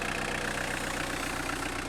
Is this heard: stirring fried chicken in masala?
no